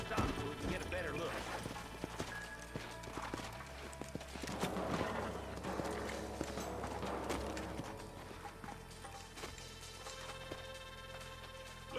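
Rhythmic clip-clop of horse hooves trotting along in the video game Red Dead Redemption, mixed with game sounds and occasional talk in the background.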